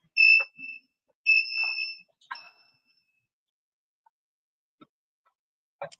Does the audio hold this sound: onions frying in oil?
no